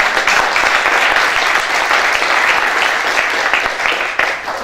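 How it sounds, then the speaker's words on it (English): Steady applause from a large audience at a summit meeting fills the space, dense and sustained without a break, with no voices rising above it. "And you can applaud yourself for that"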